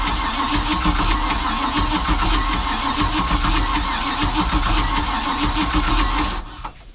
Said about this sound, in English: I've got it in the off position, so it's not going to start, but let's just see if it cranks better.